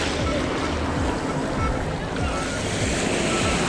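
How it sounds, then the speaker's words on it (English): Ocean surf breaks and washes onto a crowded beach during metal detecting, a loud, steady rush of water and foam with wind buffeting the microphone throughout. "the waves are definitely gonna take it away from me"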